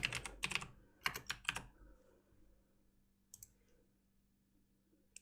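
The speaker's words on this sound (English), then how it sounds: "Typing noises, I'm sorry." Quick bursts of keyboard typing up close, a dense flurry of clicks followed by quieter scattered keystrokes, with no one talking.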